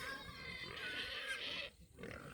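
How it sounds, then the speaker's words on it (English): Pigs grunt and oink continuously at close range, with a busy, overlapping chorus of rough snorting calls that dips briefly and then resumes. "oh, these pigs, you can probably hear them already"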